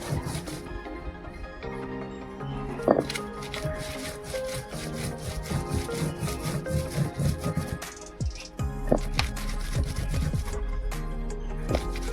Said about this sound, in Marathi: हे लसूण आणि मिरची अशा बारीक वाटून घ्या